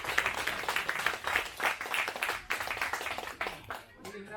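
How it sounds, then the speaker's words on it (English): Wedding guests clap and applaud at a reception, steady broadband clapping filling the room for about four seconds before thinning out near the end. "So have a big upstanding round of applause for Ryan"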